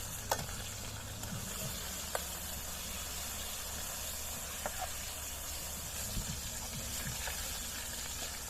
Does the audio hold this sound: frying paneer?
yes